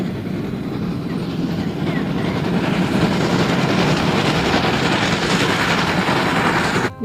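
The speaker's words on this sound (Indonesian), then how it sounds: "Wow, ada kereta api." A toy train runs steadily and close for the whole stretch, giving a continuous rolling, rattling rumble with a faint clatter on top and no pauses.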